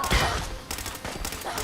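Gunfire in a survival video game plays as a dense, loud volley at the start, then continues as quicker bursts.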